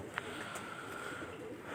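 Pigeons kept by a pigeon fancier in Sukkur coo softly in a quiet space, with low, faint calls and a brief chirp early on.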